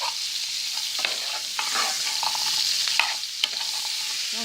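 Butter or margarine being stirred into hot steak juices in a frying pan, a steady close sizzle with scraping stir strokes throughout, no talk.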